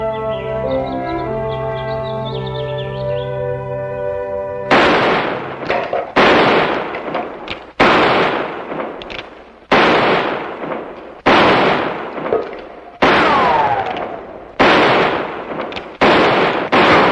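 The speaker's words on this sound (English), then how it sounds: "That's in case you wonder what all the shooting's about." Loud gunshots ring out in a classic western show setting, about a dozen sharp cracks fired one after another at irregular intervals, each with a short echoing tail, after a few seconds of held musical tones.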